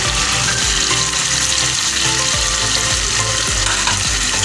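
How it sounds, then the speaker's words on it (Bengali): Meat braises in a pan with ground ginger, garlic and tomato paste, a loud close sizzle broken by regular rhythmic scrapes of a spoon stirring the thick mixture, with no speech. "মাংস আমার কষা চলছে। এবার আমি এই বাটা মশলাটা দিয়ে দেবো। আদা, রসুন আর টমেটো"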